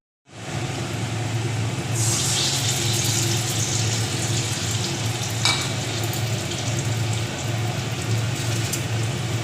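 Stuffed pointed gourd (kakrol) coated in rice-flour batter fries in a pan on low heat, a dense, even sizzle starting abruptly and holding steady and loud throughout.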